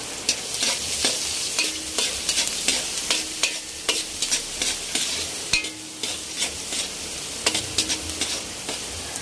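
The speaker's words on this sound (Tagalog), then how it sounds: "Gisa naman ulit tayo, sibuyas, bawang at luya." Onion, garlic and ginger sauté in a pan for chicken arroz caldo, a steady sizzle broken by repeated scraping stirs of a spatula at an uneven rhythm, close and fairly loud with no talk.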